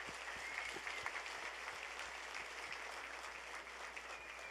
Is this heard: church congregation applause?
yes